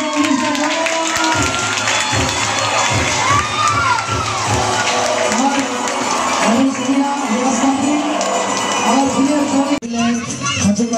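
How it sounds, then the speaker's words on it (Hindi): A crowd cheers loudly with whoops and shouts and some clapping at an election office inauguration, a dense sustained roar of many voices with a speaker's voice carrying over it. "तालियां।"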